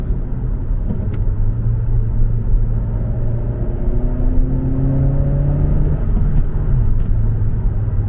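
A 2017 Honda Civic Sport hatchback's turbocharged engine accelerates hard, its steady rumbling drone rising in pitch through the revs with a shift-like dip near the end, heard from inside the cabin without talk.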